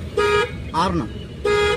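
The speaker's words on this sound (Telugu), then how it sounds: "మళ్ళీ హార్న్ వాడండి" A car horn sounds in two sustained blasts during a driving lesson, one at the start and one near the end, with a brief burst of talking between them.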